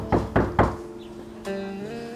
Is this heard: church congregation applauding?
no